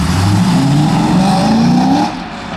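A Chevrolet Corvette C6 at a Texas car show revs hard, its engine note climbing steadily for about two seconds before dropping off, loud and close.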